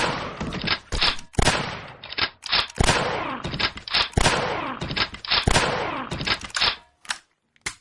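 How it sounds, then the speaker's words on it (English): A bolt-action rifle firing in an Adobe Flash shooting game, with loud, sharp shots repeating in a quick, uneven rhythm, some followed by brief sounds of hits and impacts. "Following that, I got the bolt-action rifle."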